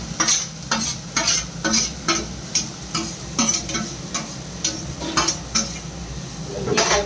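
Momo filling frying in hot oil with vinegar and soy sauce, a crisp steady sizzle broken by repeated rhythmic scraping strokes of a spatula stirring the pan, close and clear with no talk.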